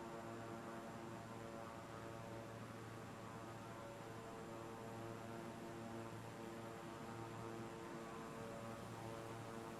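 An aircraft engine in Microsoft Flight Simulator 2020 drones continuously with a steady, even propeller hum and broadband rushing noise, unchanging and fairly quiet throughout, with no one speaking.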